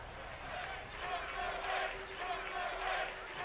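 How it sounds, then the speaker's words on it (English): Arena crowd noise in the WWE 2K22 wrestling game, NXT 2.0 Universe Mode: a steady, moderately loud roar with swelling cheers and chant-like waves throughout. "Crowd here tonight behind Pete Dunne"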